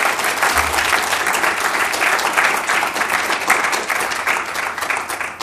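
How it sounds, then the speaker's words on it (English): An audience gives a steady, loud round of applause after a lecture on helping men find cancer early, dense continuous clapping lasting several seconds with no speech over it. "So please give John a round of applause"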